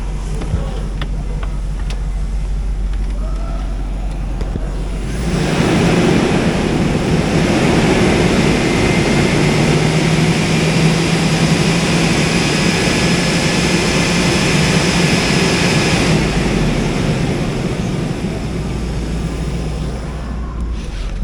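The LQ4 engine of a 2004 Hummer H2 runs steadily as it warms up, a continuous close engine drone that swells louder for several seconds in the middle before easing back, with no talking.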